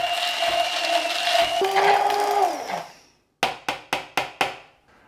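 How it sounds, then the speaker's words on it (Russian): An immersion blender mixes tomatoes with a loud, steady whirring drone that winds down and stops, followed by five sharp knocks in quick succession. "И я перемешиваю блендером"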